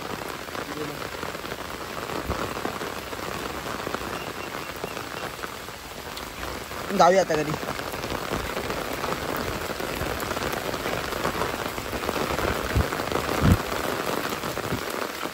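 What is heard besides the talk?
heavy rain falling at a lake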